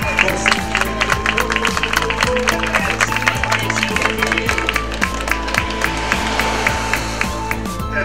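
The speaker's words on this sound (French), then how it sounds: "Vous pouvez l'applaudir une nouvelle fois." Spectators at the 2013 French women's championship time trial clap steadily for a finishing cyclist, a dense run of sharp hand claps that carries on for the full stretch, with a low rumble of crowd noise underneath.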